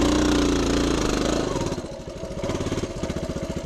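Engine of a 1976 Honda TL250 vintage trials motorcycle chugging near idle in third gear on wet ground, a loud close putter that starts smooth and turns into distinct uneven thumps.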